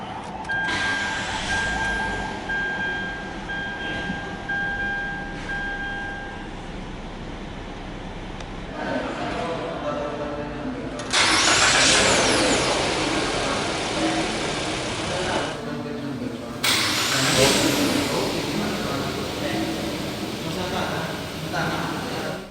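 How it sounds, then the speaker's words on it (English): A 2023 Mitsubishi Xpander Cross with a 1.5 engine and automatic transmission is started by push button: a steady hum rises into louder surges of engine noise, with a few chime-like tones early on and a voice speaking over it. "hit this engine start stop button to fire up the engine"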